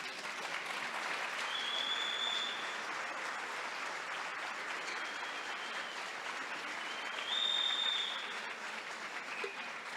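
A church congregation claps together in sustained, dense applause that swells briefly before easing, with faint voices mixed in.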